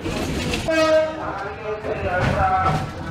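A commuter train runs past with a rumbling, humming passage and a brief tonal horn-like whine, loud and close for a few seconds.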